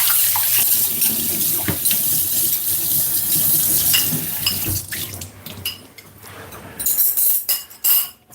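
Tap water runs steadily into a kitchen sink while dishes are rinsed, with a few light clinks near the end and a fuller gush for the first several seconds.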